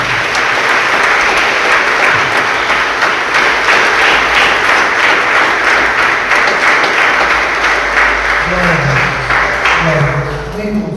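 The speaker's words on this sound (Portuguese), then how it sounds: "Você pode aplaudir o Senhor bem forte?" Loud, sustained applause fills a church as the congregation claps hard and continuously; a voice starts speaking over it just before the clapping fades at the end.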